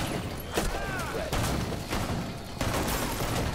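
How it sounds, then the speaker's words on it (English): Several distant video game gunshot bursts spaced a second or so apart, muffled against a low background hum. "Wait, I hear gunshots."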